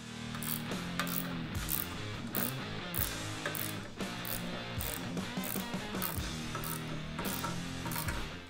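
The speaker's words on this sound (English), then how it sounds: "So to tighten these down, I'm using a 9/16 socket and a 9/16 wrench." A ratchet with a 9/16 socket, backed by a 9/16 wrench, tightens bolts on a motorcycle dolly and lift, producing rapid, continuous clicking strokes in a steady rhythm, close and moderately quiet, with no voices.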